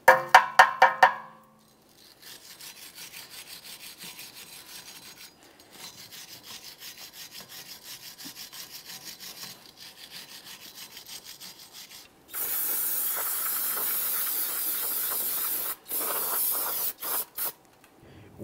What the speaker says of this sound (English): clean and inspect the mounting area on the wheel bearing hub